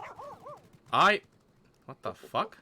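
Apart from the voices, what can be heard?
dog barking from summoned mount in video game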